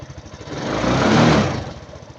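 Up close, a Suzuki Jelato motorcycle with a hard-starting fault is revved once more, its engine climbing from a pulsing idle to a louder peak and then falling back, with no talking.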